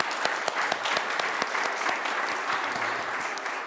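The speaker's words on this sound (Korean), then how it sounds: "네, 박수 할까요?" A church congregation claps together for several seconds, dense steady applause filling the room with no talk over it.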